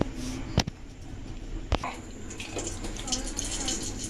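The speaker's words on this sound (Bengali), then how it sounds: "এবার চালটা আগে ধুয়ে নেব ভালো করে" Shyama rice being washed in water in a kitchen, with steady sloshing and splashing plus two sharp clinks of a utensil against a pot.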